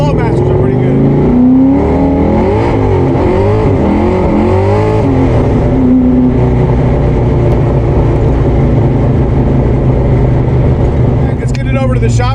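A car fitted with Flowmaster exhaust mufflers revs loudly and close up, its deep, throaty engine note rising and falling continuously throughout.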